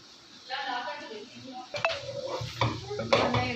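Carrots for chicken vegetable spaghetti get stirred in a metal pan, the spoon clanking and scraping against the pan in a few sharp knocks, close up, with a faint sizzle underneath.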